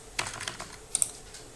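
Rapid, fairly close keystrokes on a computer keyboard as a password is entered, a quick cluster of clicks followed by a couple of sharper taps, with no talking.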